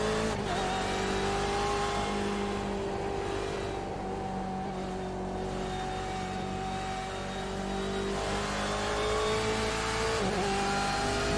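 Onboard a sports prototype race car at Road America, engine held loud and steady on throttle throughout, with slight pitch dips near the start and around eight and ten seconds as the driver breathes the pedal.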